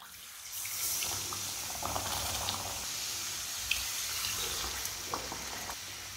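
Water pours into a pan of browned semolina and sugar while halwa cooks, a continuous hissing, bubbling sizzle with small crackling spits over several seconds.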